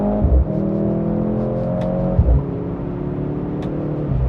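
A Mercedes-AMG C63 S E, a 680 hp 2.0-litre car in Sport Plus mode, revs its engine on a downshift with two sharp blips. A steady, loud mechanical drone runs between them, close to the listener.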